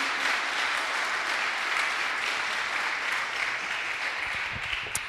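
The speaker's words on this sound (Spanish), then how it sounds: "Démosle un fuerte aplauso al Rey." A church congregation applauds during a Spanish-language sermon, a dense, even wash of clapping sustained across the full few seconds at moderate distance.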